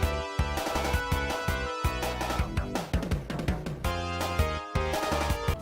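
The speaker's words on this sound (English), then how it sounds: "a 2D game with music that sounds like this." Upbeat chiptune-style soundtrack from a 2D Sonic the Hedgehog video game, with a busy melody over punchy bass and percussion, played continuously and steadily with no voices.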